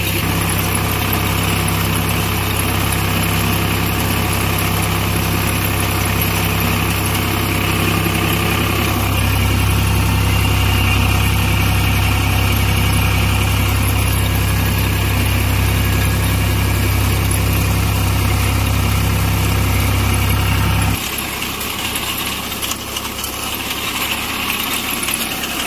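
A Vasundhara super reaper's engine runs steadily at 1200 RPM, a loud continuous low hum with strong vibration that drops to a lighter, thinner running note near the end.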